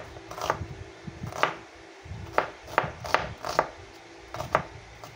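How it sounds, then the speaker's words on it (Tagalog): Knife cutting onion on a chopping board, a series of about eight crisp, separate slicing taps at an uneven pace, close and fairly quiet over a low room hum. "Hatiin na natin tong ating sibuyas."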